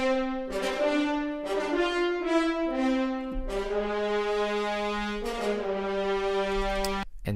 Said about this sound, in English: So just the horn sounds like this.